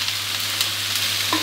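Broccoli and shrimp stir-fried in oyster sauce, sprinkled with ground pepper, hiss steadily in a hot pan with light scraping stirs, close and continuous, a low steady hum beneath, no voices.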